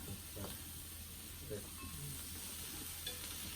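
Pork, chicken yakitori and fresh vegetables grilling on a Thai mu kratha grill pan give off a faint, steady sizzle. Soft voices are heard briefly at a distance.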